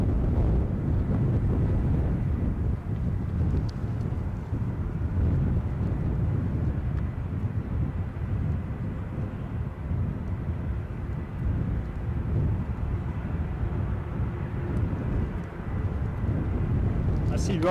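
An ATR 42-500 turboprop airplane rumbles low and steady at Edinburgh airport on a gusty day, the broad engine drone mixed with wind buffeting the microphone throughout.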